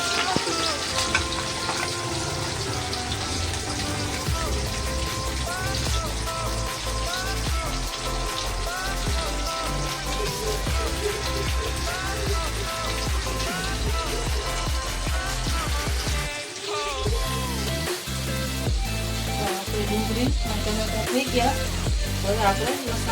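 Chopped tomatoes go into a pan of already-fried onions, raising a strong continuous sizzle with stirring. Tonal background sounds run underneath, and a few heavier thumps break through near the end.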